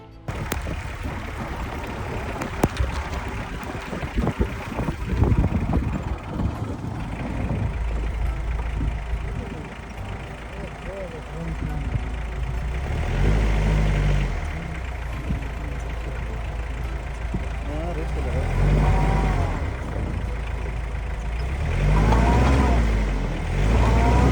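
A jeep engine rumbles steadily on a snowy mountain road, close and loud, the revs rising and falling as the vehicle struggles, with voices talking over it at times.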